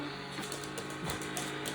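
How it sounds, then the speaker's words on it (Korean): A robot vacuum cleaner moves across a home floor, giving a faint, steady mechanical whir with a few soft clicks and bumps. "로봇 청소기가 바닥을 닦고 있어"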